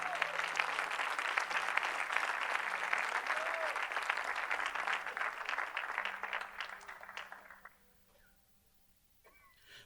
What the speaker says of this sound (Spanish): Dele fuerte ese aplauso a Cristo si cree.